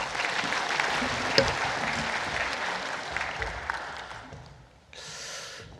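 A church congregation applauds steadily, a dense wash of clapping that fades out, followed by a brief burst of noise.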